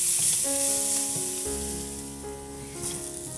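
Finely chopped green chillies and ginger fry with onions in a pan for an aloo matar dish, giving a steady, close sizzle with faint stirring and no voices.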